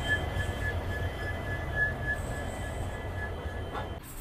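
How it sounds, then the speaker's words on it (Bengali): The Sairang Express pulls out of New Jalpaiguri station, heard as a steady low rumble of rolling carriages with a faint thin whine running above it throughout. "আমাদের এই নিউ জলপাইগুড়ি রেলওয়ে স্টেশন ছেড়ে দিলাম আমরা"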